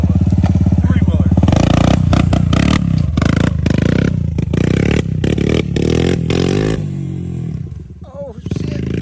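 A Suzuki LTZ quad ATV, an LTZ 500 or 250, runs loudly up close with its engine revving in bursts and stuttering, with scraping and clattering toward the end as voices talk over it.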